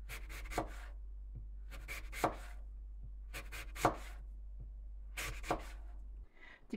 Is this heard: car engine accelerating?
no